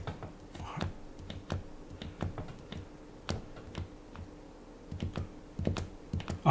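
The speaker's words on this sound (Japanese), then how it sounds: "紙に数回押し当てるということですけれども" The tip of a white ink pen is pressed repeatedly against paper, giving a string of quiet, irregular dry taps and clicks, with no talking.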